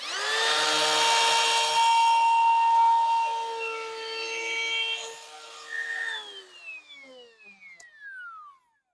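Wood router spinning up and cutting the edge of a wooden coffee table, a loud steady high whine for several seconds, then the motor winding down with a falling pitch as the cut ends.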